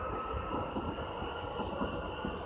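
A steady rumble of a train in Saint-Denis station, continuous low roar with a high whine on top, no talking.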